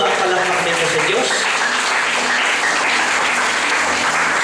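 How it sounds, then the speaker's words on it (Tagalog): A church congregation breaks into sustained applause, dense and fairly loud, with voices mixed into the clapping for the whole stretch. "Palakpakan natin ang malakas ang ating pagkakas sa buhay."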